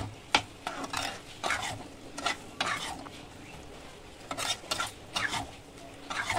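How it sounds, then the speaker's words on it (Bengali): Boiled lentils stirred into spice paste in a pan, producing rhythmic close scraping strokes over a low sizzle, with occasional clinks of the spoon on metal. "এবার ভালো করে ডালটি মশলাটির মধ্যে মিশিয়ে নেবেন।"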